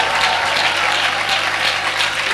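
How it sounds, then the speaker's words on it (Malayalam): A church congregation clapping hands together during Pentecostal worship, a dense, steady wash of applause from many people at close range. "ചലനമുള്ള കരങ്ങൾ ചേർത്തടിക്കട്ടെ."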